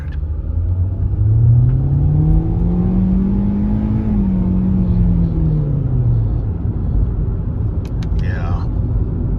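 Hyundai Elantra SEL with a CVT accelerating: a steady engine drone rises in pitch, holds, then eases back down. The tone stays smooth throughout, with no gear shifts, and a voice talks over it.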